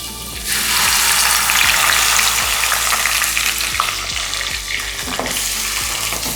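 Cinnamon, cardamom, cloves, a bay leaf and ground masala paste frying in hot oil for Mughlai egg curry, a loud dense sizzle that flares as the paste goes in, with occasional stirring scrapes.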